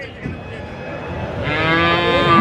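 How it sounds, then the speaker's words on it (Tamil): Tamil-breed cattle at a Saturday cattle market in Kundadam, Tiruppur district, let out a long, loud moo that swells and rises in pitch, close by and heard over faint market murmur. "இதுதாங்க அந்த ரெட்டத்தமிழ் மாடுகள்."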